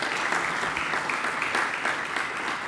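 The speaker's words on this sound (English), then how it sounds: "If we could give a round of applause for all four of our panelists." Steady applause from an audience at a community panel discussion, a dense, even patter of clapping hands throughout, fairly faint and with no talk over it.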